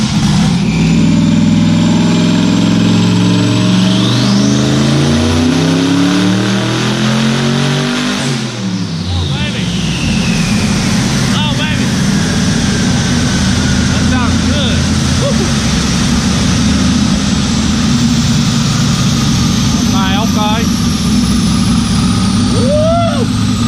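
A turbocharged car with boost turned up runs on a dyno, revving up and climbing in pitch, dropping at one point and then pulling hard again at sustained high rpm, very loud and close, with voices under the roar.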